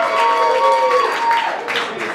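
Applause from a comedy-club audience at a benefit show, a steady wash of clapping that holds for a couple of seconds with no break.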